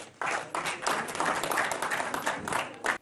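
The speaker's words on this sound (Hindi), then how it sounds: "ताली बजाइए जोर से।" A crowd at a Hindi political speech claps hard on cue, starting with a few hands, then swelling into dense, loud applause that holds steady, with a brief dip and a final surge.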